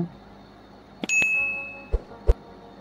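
Two or three short, bright bell dings ring out over a quiet background, each clear and close with a brief ringing tail.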